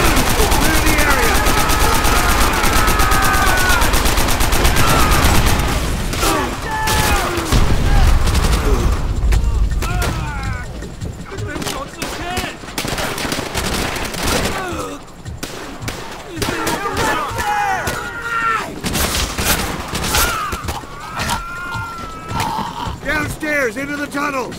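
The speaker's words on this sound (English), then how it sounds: "Open fire!" Call of Duty: World at War battle on PC, with dense, continuous machine-gun and rifle fire and occasional booms, loud throughout, while soldiers shout orders over the shooting.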